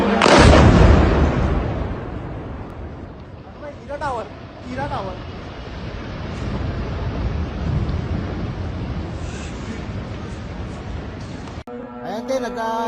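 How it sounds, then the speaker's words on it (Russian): A heavy blast from an Iranian drone strike on a city hotel and residential building rolls out as a loud, rumbling boom at the start, then fades into a sustained distant roar with people talking over it. "И очень сильный взрыв был."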